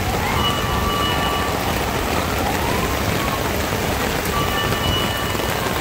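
Heavy rain pours steadily as a downpour drums on surfaces near a bridge, a dense continuous hiss with a faint possible rumble of thunder, with no voices over it.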